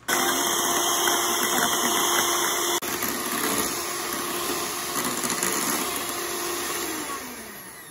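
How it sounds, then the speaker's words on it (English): An electric mixer whipping cream with confectioner's sugar and vanilla extract at medium-high speed, a loud continuous motor whir that dips slightly partway through and keeps running steadily to the end. "mix it on medium to high speed until soft peaks form"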